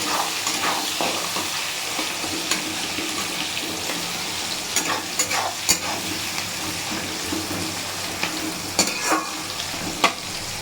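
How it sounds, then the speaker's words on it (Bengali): Chopped onion fries in a pan with bay leaf and whole cumin, a steady close sizzle broken by repeated scraping stirs of the spoon, with no voices over it. "এই যে পেঁয়াজটা লাল লাল করে ভাজা হয়ে গেছে।"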